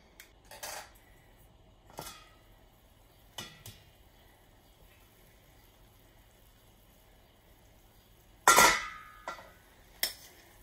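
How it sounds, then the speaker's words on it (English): A spoon stirs brined ribs simmering in a metal pot, giving a few sparse, sharp clinks and scrapes against the pot with quiet pauses between them. "You got to stir it a little, get them all moving around"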